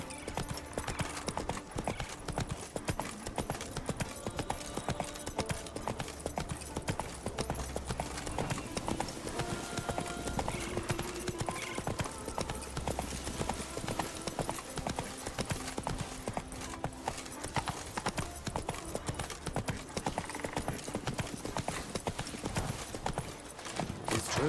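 A horse gallops in the video game Witcher 3, its rhythmic clip-clop hoofbeats running continuously and evenly, loud and close, with faint game ambience beneath.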